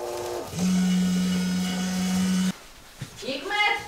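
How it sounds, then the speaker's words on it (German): A household coffee machine in a home kitchen runs loudly with a steady droning hum that cuts off abruptly partway through, after which people talk nearby. "jetzt mache ich die Kaffeemaschine an und das ist dann immer schön laut"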